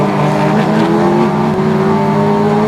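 An orange Porsche Boxster race car roars past in a ClubEnduro race at Croft circuit, its engine loud and close with a steady high drone and rising pitch.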